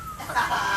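A chicken clucks briefly, a short burst of hen-like calls heard up close with no one talking.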